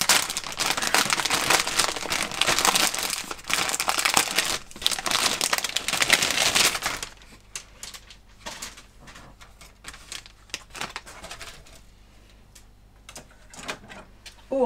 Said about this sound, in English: Right, more plastic bag noises.